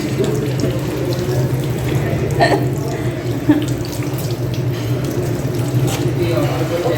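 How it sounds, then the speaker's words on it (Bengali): Tap water runs steadily as hands are washed under it before a meal at the Kacchi Bhai restaurant in Savar, a continuous splashing hiss with a few brief knocks, heard close and without speech. "খাবার আগে অবশ্যই হাত ধুয়ে নিন ধুতেই থাকুন ধুতেই থাকুন ধুতেই থাকুন"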